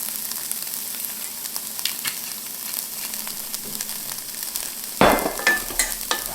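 Chicken and onions browning in oil, a steady close sizzle with scraping stirs, then a sudden louder burst of frying near the end as more oil or food hits the hot pan.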